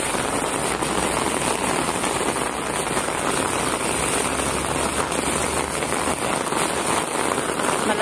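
Heavy rain pours in a park, a dense, steady hiss of drops hitting surfaces around, loud and continuous with no talk.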